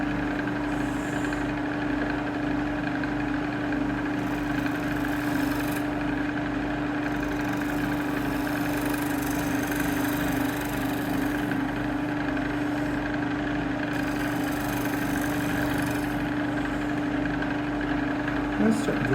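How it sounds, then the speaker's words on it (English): A shear scraper cutting an English walnut live-edge bowl on a spinning lathe, giving a steady, continuous whirring drone with a faint scraping texture that holds evenly throughout, close up, with no talking. "shear scraping around a curve."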